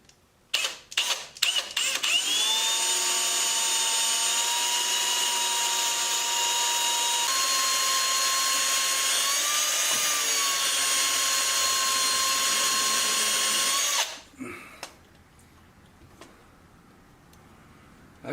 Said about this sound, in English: to use an easy out with the right drill bit and hopefully make that work